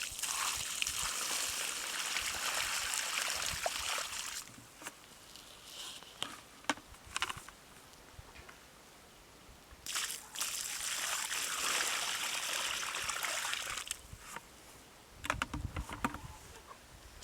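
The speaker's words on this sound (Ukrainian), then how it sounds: "Вливаємо два відеречка води." Water poured from two buckets onto a newly planted tree, a broad splashing gush that runs for several seconds, pauses with small drips, then pours again, close by with no talk.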